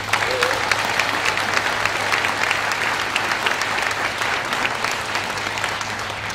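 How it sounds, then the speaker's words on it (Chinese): Loud, dense applause from a large audience fills the hall for a team leader stepping onto the stage at a 2014 leadership training conference, steady clapping throughout with a faint crowd murmur beneath. "请大家给一个热烈的掌声给我们的飞马领队 Mr."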